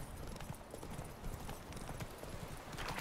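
In The Witcher 3: Wild Hunt, a horse's hooves pound in a fast, steady galloping clip-clop under a dense game soundscape, close and continuous throughout.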